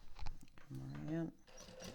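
A sewing machine makes a short whirring run of a lock stitch on a zipper pocket with a window facing, partly under someone talking close by.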